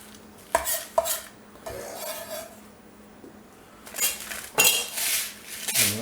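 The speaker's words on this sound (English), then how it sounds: "I'm just going to go ahead and mix them in with my breadcrumbs." A spoon stirs chopped pistachios into breadcrumbs in a bowl for a pistachio crust, giving sharp, irregular clinks against the bowl with softer scraping and rustling between them.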